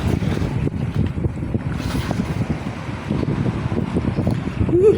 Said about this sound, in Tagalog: Lamig. Mahangin pa.